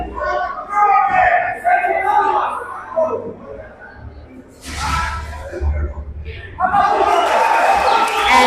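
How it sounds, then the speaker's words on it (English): A crowd at an international doubles pool competition cheers in loud bursts of voices and yells, with rises and lulls and a big swell near the end. "The crowd goes crazy. The crowd is cheering their player on."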